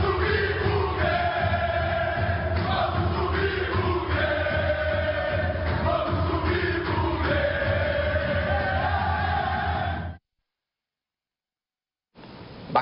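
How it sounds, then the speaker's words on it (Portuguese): Football players roar a fans' war cry together in a locker room, a dense loud chorus of chanting voices with rhythmic shouts, then a sudden cut to silence before a brief burst returns. "dentro do vestiário eles cantaram o grito de guerra da torcida."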